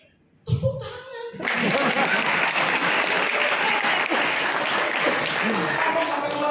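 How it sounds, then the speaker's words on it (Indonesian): An audience at a business seminar in Jakarta bursts into loud, sustained applause after a brief stretch of voices, and the dense clapping carries on steadily to the end. "Tepuk tangan."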